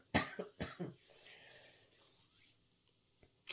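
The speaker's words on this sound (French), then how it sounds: "Je vais tousser." Two or three close coughs in quick succession, fairly quiet, followed by soft rustling and a brief throat noise at the end.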